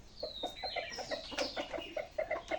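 Chickens and two roosters cluck after feeding, giving a rapid series of short, repeated clucks with a rising squawk, fairly close but quiet; no talking.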